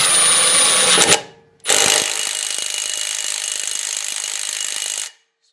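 Milwaukee M18 Fuel impact driver, model 2753, torques a fastener with a socket: a brief loud burst of rapid hammering, a short pause, then a longer sustained run of close, harsh impacts that stops abruptly.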